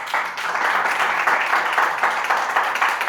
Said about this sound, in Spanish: Damos un aplauso a Charlie,